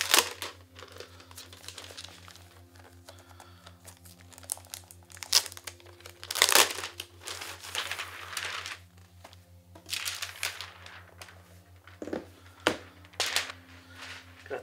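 Packaging of an Asus ROG Zephyrus 14 2023 gaming laptop is opened, with close crinkling, rustling and tearing of plastic and cardboard in irregular bursts, several sharp snaps, and a low steady hum underneath.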